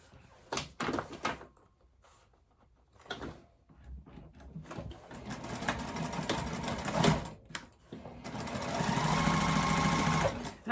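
A sewing machine stitches a large boxed bag in several bursts of rapid mechanical chatter, with quiet gaps and some handling clatter between runs, ending in a longer sustained stitching run.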